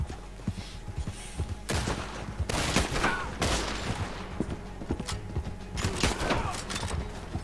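Video game gunfire in bursts of loud shots that come and go over about seven seconds, with clattering, hoof-like sounds in between and a voice talking now and then.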